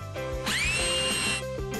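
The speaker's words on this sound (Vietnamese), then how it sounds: "Khoan cho chắc vào nha." A power drill whines in a steady rising pitch while fixing a window in place during a home building project, one sustained burst of about a second, loud and close, with no talk over it.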